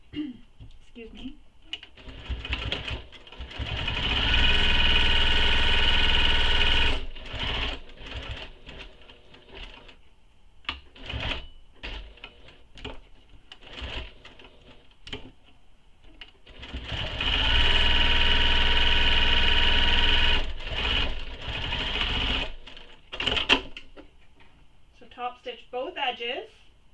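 A sewing machine top-stitches the seams of a mini backpack in two long, close bursts of steady whirring, separated by clicks, fabric handling and a person talking.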